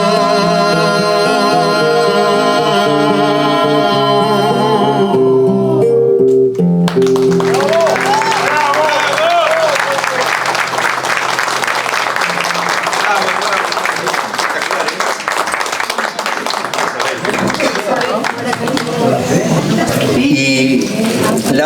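Music fades out, then an audience at a tango festival in Spain bursts into loud, sustained clapping for a pair of tango dancers, a dense wash of applause lasting many seconds.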